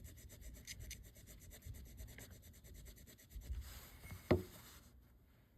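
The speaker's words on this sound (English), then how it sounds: "now we should theoretically just be scraping" A metal item, probably brass, scraped by hand to test for gold plating, a quiet steady rubbing rasp with one sharper scrape near the end and no talking.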